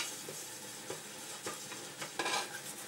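Flour being stirred into melted butter in a pan, heard as soft scraping strokes of a utensil at a steady rhythm over a faint sizzle, close and quiet with no talking.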